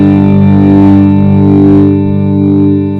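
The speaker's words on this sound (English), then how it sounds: "volume is now off, but the delay pedal is carrying that tone through." A distorted electric guitar chord rings out and sustains evenly, carried on by delay and reverb, loud and steady with no playing on top.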